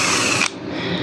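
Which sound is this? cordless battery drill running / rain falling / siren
cordless battery drill running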